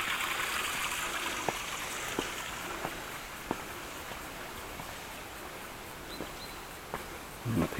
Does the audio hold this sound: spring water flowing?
yes